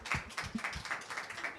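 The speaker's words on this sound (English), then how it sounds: "please join me in giving a warm round of applause for our three wonderful speakers" A conference audience gives a round of applause for three speakers: faint, brisk claps in a quick, fairly even patter, heard from a short distance.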